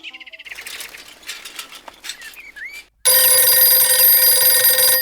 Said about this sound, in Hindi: हाँ कार्तिक फोन